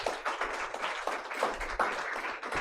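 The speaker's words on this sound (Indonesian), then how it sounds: "Tepuk tangan yang meriah bagi Yesus." A church congregation applauds with a dense, continuous wash of many hands clapping, fairly close and steady across the whole stretch.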